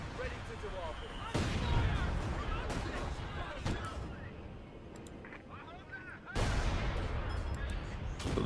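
Base sector guns in a Company of Heroes 2 match fire in heavy, booming bursts, with two loud onsets leading into rumbling sustained artillery-like fire over a dense battle backdrop.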